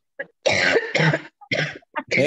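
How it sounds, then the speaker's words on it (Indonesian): Several harsh coughs and throat clearings burst out close to the microphone during a members' meeting, in a rapid irregular series of loud fits. "bukan ibunya yang batuk-batuk tadi"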